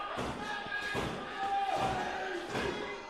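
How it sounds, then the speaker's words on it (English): A super kick lands in a wrestling ring at a live academy show in Pittsburgh, one sharp impact beneath an excited commentator's call, with crowd noise rumbling throughout. "Oh! Super kick."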